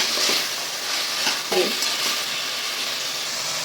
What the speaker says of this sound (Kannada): ಕ್ಯಾರೆಟು ಬೀನ್ಸು ಆಲೂಗಡ್ಡೆ ಅಷ್ಟನ್ನು ಹಾಕಿ ಈ ಥರ ಫ್ರೈ ಮಾಡ್ಕೋಬೇಕು